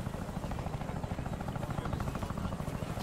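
A helicopter going down in the military game ArmA 3 gives a close, loud, rapid rotor chop that pulses steadily throughout the short stretch, with no speech.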